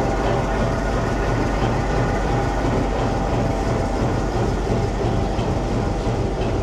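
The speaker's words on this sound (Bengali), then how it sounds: "2 নম্বর প্ল্যাটফর্মে আমাদের ট্রেন খাড়া আছে" Tungipara Express train standing at platform 2, with a steady, dense rumble and hiss of railway noise filling the scene at an even level throughout, with no breaks.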